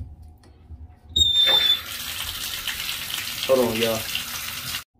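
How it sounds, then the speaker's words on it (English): Water runs from a tap into a sink, a steady rushing hiss that starts suddenly and continues for several seconds, while a person talks briefly over it. "Let me turn this water on real quick."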